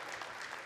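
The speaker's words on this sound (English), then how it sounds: "a nice big round of applause to Siga for coming out here today" A telethon audience claps for a donor on stage at Telemiracle, a brief, soft burst of steady applause.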